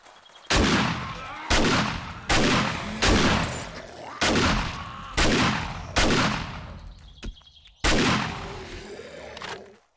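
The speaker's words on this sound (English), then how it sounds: "Shotgun is devastating." A shotgun in the game Darkness Falls fires seven heavy booming blasts at roughly one-second intervals, each loud and close with a decaying tail, and no talk over them.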